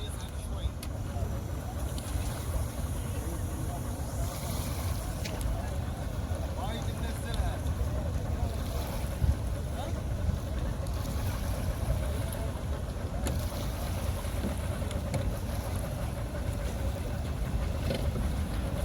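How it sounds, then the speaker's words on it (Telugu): A boat motors up onto a trailer at a Kuwait City beach, a continuous low engine rumble mixed with wind buffeting the microphone, with talk over it throughout. "చూడండి పడవ అట్లే వచ్చి ట్రాలీ ఎక్కేసింది పైకి."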